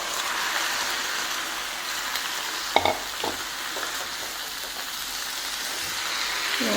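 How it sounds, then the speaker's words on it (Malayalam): Chicken frying in a pan with onions and spices gives a steady, broad sizzle, and a couple of brief stirring knocks stand out near the middle. No one speaks. "നമുക്കിതിലേക്ക് ചിക്കൻ ചേർത്ത് കൊടുക്കാം"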